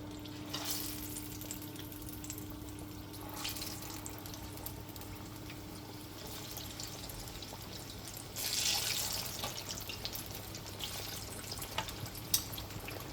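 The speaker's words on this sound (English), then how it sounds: "So we're going to fry this for like 10 minutes and that'll be ready." Plantain slices sizzle in hot oil in a pan, a steady close crackling hiss with brief louder bursts and no talking.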